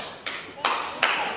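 Audience clapping at a Juneteenth event, three sharp claps spaced about 0.4 seconds apart, moderately loud and close over faint room noise.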